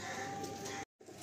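Several pigeons at a loft housing Madrasi and Giribaj breeds coo softly amid a busy, continuous murmur, the sound broken by a brief silent gap before resuming.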